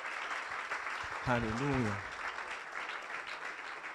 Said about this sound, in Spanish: Denle ese fuerte aplauso al Señor Jesús